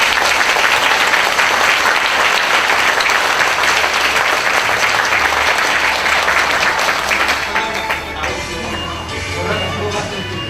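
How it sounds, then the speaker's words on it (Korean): Loud, sustained applause from an awards-ceremony audience fills the hall for award winners, a dense crowd of clapping that thins and softens toward the end. "오늘 수상하신 혁신고수분들께 다시 한번 큰 박수 부탁드립니다."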